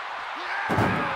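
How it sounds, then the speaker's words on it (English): A heavy slam as Batista is driven face first into an ambulance in WWE 2K24, one loud thudding impact midway through over crowd and arena ambience, with commentary voices audible. "Slammed face first into the ambulance there is Batista"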